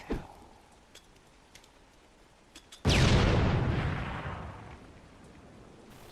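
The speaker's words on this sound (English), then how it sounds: "Maybe I can grenade him." A grenade detonates in Halo 3 ODST: a sudden loud blast at mid-clip with a long rumbling tail that fades over about three seconds, after a quiet stretch with a few faint ticks.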